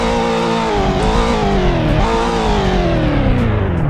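A Cadillac CTS5 Blackwing in the Roblox game Greenville revs loudly and continuously, its engine note sweeping up and dipping back in a few pulls, close and with no other sound.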